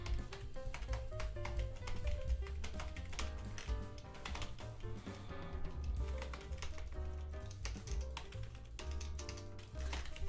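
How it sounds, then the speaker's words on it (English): Rapid keyboard typing, a quick irregular run of sharp clicks and taps over a steady low background hum, with no talk. "So I'm typing."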